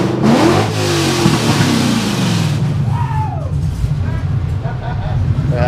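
Coyote-swapped Foxbody Mustang engine revving nearby, a loud burst of throttle that falls back to a rumbling idle, with people talking over it.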